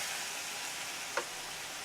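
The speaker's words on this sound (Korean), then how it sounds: "전자렌지에 3분 돌리고 나서 이리 볶는 거야" Japchae glass noodles stir-fry in a pan with a soft, continuous sizzle and one brief scrape or tap midway, fairly quiet and close, with no talking.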